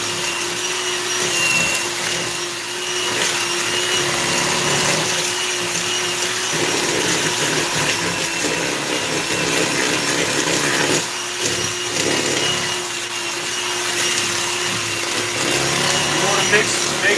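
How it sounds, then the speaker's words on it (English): An electric blender mixing butter and sugar at low-medium speed gives a steady, loud motor whir that runs throughout, with slight dips and surges in intensity. "for this first part, you do want to use a blender, okay? You want to do it on low to medium speed, and you want to mix this butter and the sugar together"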